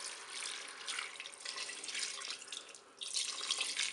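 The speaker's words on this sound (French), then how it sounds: "Maintenant je vais verser de l'eau pour recouvrir mes pâtes" Water is poured from above into a Cookeo multicooker pot over spaghetti, a steady, soft splashing trickle with a brief dip before it resumes, close and without any talk.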